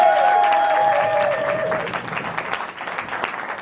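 Stand-up comedy audience applauding and cheering for comedian Ben Bellamy, a dense crowd of clapping that starts loud with a brief whistle-like cheer and gradually thins toward the end.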